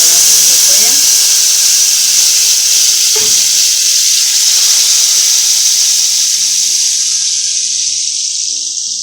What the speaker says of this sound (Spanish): Vamos a poner la cebolla.